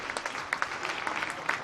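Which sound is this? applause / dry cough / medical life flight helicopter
applause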